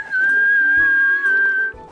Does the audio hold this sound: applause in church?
no